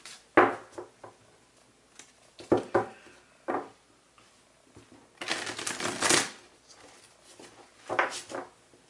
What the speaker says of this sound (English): These cards are ridiculously hard to shuffle